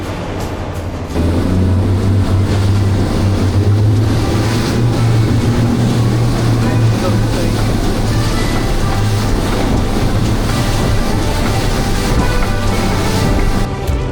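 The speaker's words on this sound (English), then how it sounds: "Some nice rolling waves coming in there, isn't there?" Boat motoring over rolling ocean waves on the crossing to King Island, a steady loud rush of water and engine drone with wind buffeting the microphone throughout, no talking.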